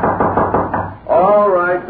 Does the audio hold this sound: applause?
no